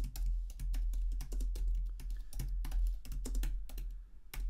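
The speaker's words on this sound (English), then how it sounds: "so I'm just going to type it in." Rapid typing on a computer keyboard, a dense run of crisp key clicks in an irregular rhythm with short pauses, close and clear, no voices.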